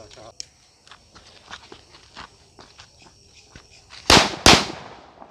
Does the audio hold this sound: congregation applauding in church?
no